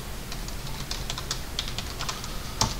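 AutoCAD commands typed on a computer keyboard, a close, fast run of light plastic key clicks with a few harder taps, continuous over a steady background hiss and without speech.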